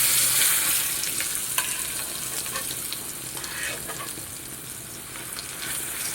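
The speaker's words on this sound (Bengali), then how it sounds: "আমি এখন দিয়ে দেব বেটে রাখা সেই মিষ্টি কুমড়া বাটা" Sweet pumpkin paste frying in hot oil, a steady close sizzle with soft stirring scrapes throughout and no talking.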